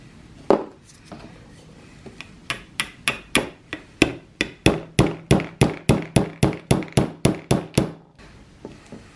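Metal pins hammered into an antler handle on a steak knife build: about twenty sharp, close taps, a few scattered at first, then settling into a fast, even rhythm before stopping, with no talking.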